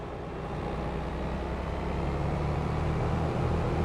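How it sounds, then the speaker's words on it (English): Farming vehicle engine in Farming Simulator 22, a steady low droning rumble that holds constant and slightly builds in loudness, with no talk over it. "Oh, this engine sounds lovely."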